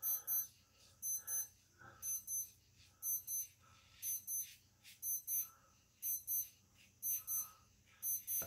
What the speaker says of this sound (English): Midnight alarm.